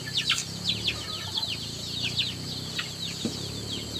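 Chickens cluck and chirp in short bursts over a steady outdoor background, with several birds calling at once at moderate distance.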